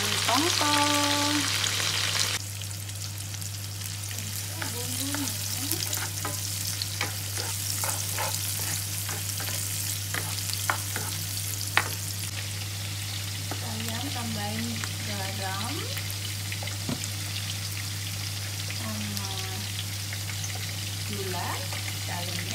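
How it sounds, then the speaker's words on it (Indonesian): Pieces of tongkol tuna fry in a pan with a continuous sizzle while a utensil scrapes and clinks against the pan in irregular strokes, all over a steady low hum. "Goreng ikan tongkol."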